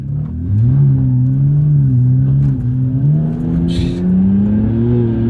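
BMW fitted with a Windbooster throttle controller set to race mode, its engine revving up steadily under acceleration, loud and close from inside the car with rising, shifting engine tones and no talking.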